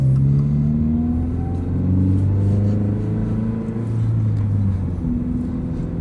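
A Subaru BRZ engine while driving, a loud close steady drone with smoothly rising and falling tones as the revs shift through gears, continuous and without talk.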